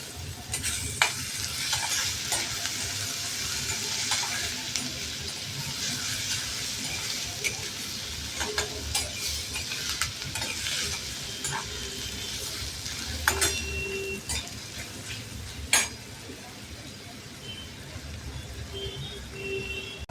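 Finely chopped tomato sizzles and fries in a pan of egg masala, a steady bright crackle throughout with occasional louder pops and stirring clatters, no talking.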